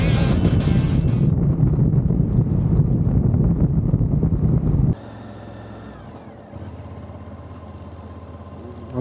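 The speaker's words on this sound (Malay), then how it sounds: "Ada sedap sikit angin." Wind buffets the microphone during a seaside motorcycle ride on a Sunday trip to Tanjung Sepat: a loud, steady roar for about five seconds, then it drops abruptly to a much quieter hum with a faint engine drone.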